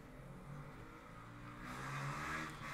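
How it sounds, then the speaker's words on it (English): A motorbike engine hums steadily somewhere in the background, then swells louder as it revs up near the end, faint and muffled with no talking. "Congratulations on revving your motorbike."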